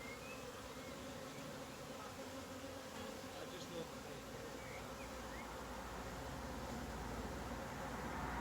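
A swarm of honey bees hums in a steady, dense drone, fairly faint and continuous throughout, growing slightly louder toward the end.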